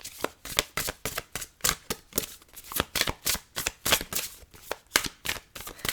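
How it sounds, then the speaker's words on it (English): Tarot cards riffle and shuffle in quick, steady bursts, crisp and close, repeating about twice per second with no talk over them. "I'm going to shuffle a few times to see if any cards jump out."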